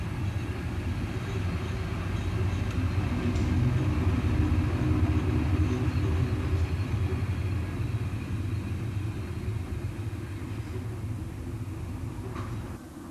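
Swiss Federal Railways electric locomotive No. 10700, an SLM-built express engine of 1921–1929 in brown livery, rumbling past steadily and loudly with a deep continuous roar of wheels and motors, sustained throughout without voices.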